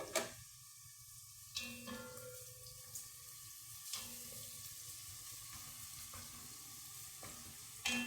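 Garlic frying in a pan, a soft steady sizzle with occasional sharp clinks and scrapes of a utensil against the pan, quiet and close with no talking.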